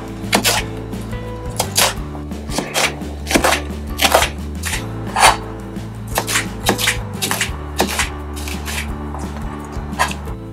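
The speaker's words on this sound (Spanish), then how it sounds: "Y ahora, pues cortamos en tiras." A kitchen knife slicing bell peppers into strips on a cutting board, a brisk run of close, sharp knocks at an uneven rhythm, with no talk over them.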